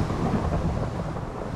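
Rain and thunder fill a Minecraft world, a dense rumbling storm with steady rainfall, loud and continuous throughout with no voices.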